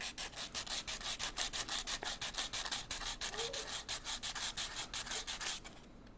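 Sandpaper scratched across a gilded metal leaf surface in quick, steady back-and-forth strokes, a harsh close rasping that repeats evenly for about five seconds before stopping.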